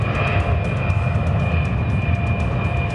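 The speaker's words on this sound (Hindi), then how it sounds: "सुखोई T-50 आवाज से दोगुनी रफ्तार से उड़ता है।" Sukhoi T-50 fighter jet flying: a steady, loud, broadband engine roar with a constant whine, sustained throughout with no talking.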